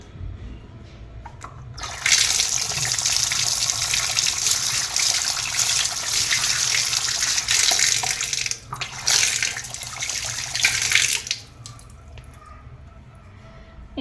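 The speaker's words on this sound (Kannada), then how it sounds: "ನಾನು ಕೈ ವಾಶ್ ಮಾಡ್ತೀನಿ" Hands are washed under a running tap: a loud, close stream of water gushes for several seconds, breaks off briefly, resumes, then stops, leaving a faint room hush.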